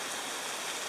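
Steady rain falling on a cold, slippery hiking trail in Estonia between Ähijärve and Peraküla, a dense, even wash of close patter with no voices.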